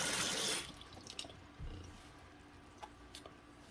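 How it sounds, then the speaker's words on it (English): Cold tap water runs into a container of potatoes, a loud gushing burst for the first half second, then quieter drips and trickles with scattered small splashes. "You can hear the water running."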